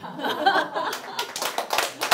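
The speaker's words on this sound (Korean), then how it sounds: "한 분만 박수 치고 말아요." A lone listener claps during a lecture hall talk on Korean armed independence fighters, a few sharp, uneven hand claps that come after a short stretch of soft room noise, close and moderately quiet.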